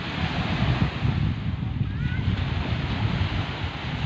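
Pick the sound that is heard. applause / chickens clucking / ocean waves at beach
ocean waves at beach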